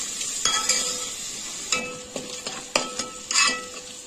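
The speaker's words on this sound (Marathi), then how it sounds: "कांदा गुलाबी कलर येईपर्यंत त्याला परतवून घ्यायचा आहे" Onion is sautéed in a hot pan, sizzling while a utensil stirs it in several distinct scrapes and knocks against the pan. No one speaks.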